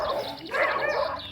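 A dog barks in short bursts close by in a sunny outdoor spot, the yaps fairly loud with no talking over them.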